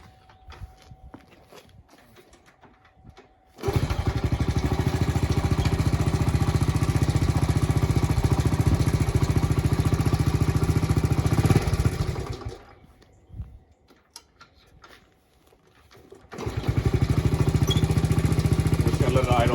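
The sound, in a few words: 1972 Honda CT70H engine idling after cold start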